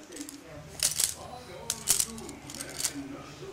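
Keys drop and clatter in three separate bursts of bright metallic jingling, close and sharp, while a person talks quietly in between.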